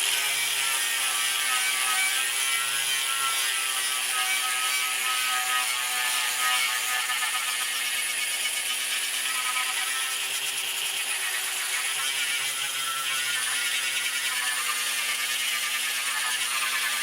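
A DA sander grinds paint off a Yamaha RZ350 motorcycle gas tank, giving a loud, continuous, raspy buzz that holds steady from start to finish with no talk over it.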